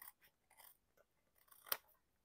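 Scissors snip through paper on a kitchen work surface in a few quick, close cuts, the last one a sharp louder crunch, with quiet gaps between strokes.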